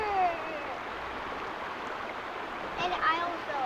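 A river flows at a hiking crossing in a state park, a steady rushing wash of water heard close, with brief louder splashes near the start and end.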